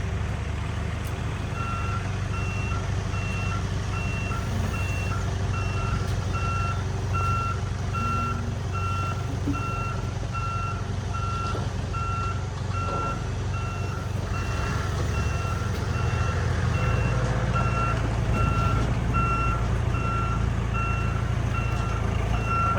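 Steady, evenly spaced reversing beeps from a backing loader ring out over a loud, constant diesel engine rumble throughout, with no talk.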